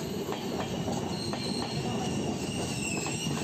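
A Shatabdi train passes a stopped train, a dense steady roar of wheels on rails with squealing and rhythmic clicks throughout, close and loud.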